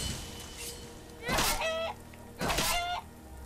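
Hens in Skyrim give two short bursts of clucking about a second apart, fairly close and clear over a soft ambient game background.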